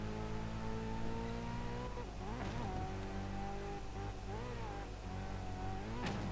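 A 450-horsepower Ferrari driven in the racing game Test Drive Unlimited 2 drones loudly and steadily, its engine pitch dipping and rising with gear shifts and bumps, with no talking.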